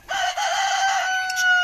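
Poultry commotion in a backyard flock as guinea fowl squabble with a rooster, a loud close crowing-like call holding steady and then breaking into sharper squawks at the end.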